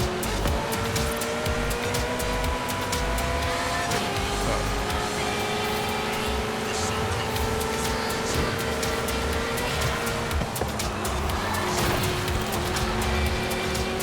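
A Ferrari J50 driving in Forza Horizon 5, its engine holding a steady droning tone with shifting pitch and light road noise, continuous throughout.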